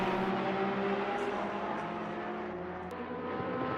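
Porsche and BMW race cars in a racing video game at Silverstone: a continuous droning engine whine at moderate level, steady as the cars run together down the straight.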